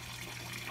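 Water pours steadily into a turtle pond, a continuous close rushing gush with no talk over it.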